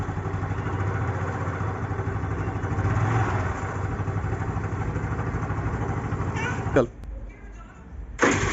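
A scooter engine runs with a steady, close idling drone under people's talk, then cuts out abruptly near the end before a brief burst returns.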